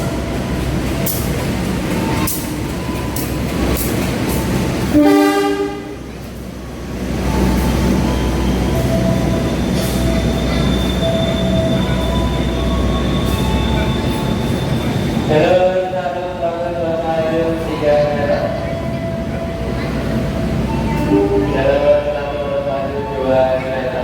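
The Joglosemarkerto train, running between Jogja and Solo in Indonesia, rumbles loudly and steadily at a station, with several bursts of shrill, tonal wheel squeal. Voices can be heard faintly in the background.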